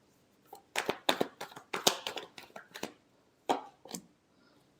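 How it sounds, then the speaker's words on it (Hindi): A deck of tarot cards shuffled by hand, bursts of close riffling and soft slapping in uneven clusters with short pauses between, fairly quiet and without talk over it. "last shuffle"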